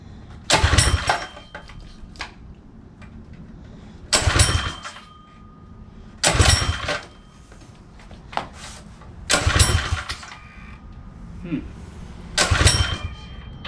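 A Predator 212 small engine fitted with a CDI performance ignition is cranked with the choke on. Five loud, separate starting bursts each sputter briefly and then die out, with faint background noise in the gaps.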